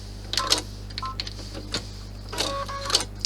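A machine-embroidery sewing machine stitches a large clutch in short whirring, clicking bursts with brief pauses between them, under a steady low motor hum.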